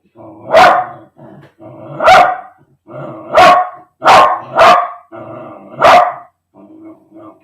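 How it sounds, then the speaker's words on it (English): Several dogs barking loudly and close at a home delivery, about six sharp, agitated barks in an irregular rhythm with faint growling between them. "I had a delivery and so the dogs are upset."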